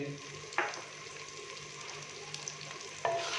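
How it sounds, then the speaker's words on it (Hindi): Potato, peas and cabbage sizzle in a pan while spices are mixed in, a quiet steady fry with two distinct spoon knocks against the pan. "मसाले शामिल करने के बाद हम इसको अच्छे से मिक्स कर देंगे"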